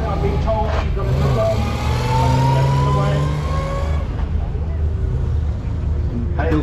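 A vintage BMW Frazer Nash 315 pulls away from the start line of a hill climb, its engine note rising in steady harmonic sweeps. Crowd chatter and a public-address voice run underneath throughout.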